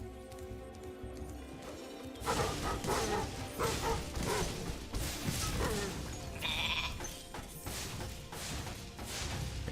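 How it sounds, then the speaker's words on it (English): Sheep on stilts bleat in the Spyro Reignited Trilogy video game, several short nasal bleats over busy game effects with clattering hooves, whooshes and a bright chime-like burst. "And it's just sheeps on stilts."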